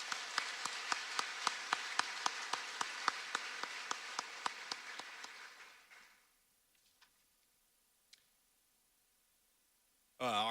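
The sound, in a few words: audience applause for a Hall of Fame inductee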